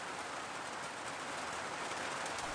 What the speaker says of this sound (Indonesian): Gerimis menetes semakin lebat.